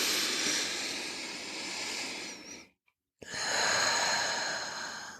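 Slow, deep inhalation during a guided postpartum meditation, a soft close breath that swells and fades, followed by a brief silence and another long airy breath.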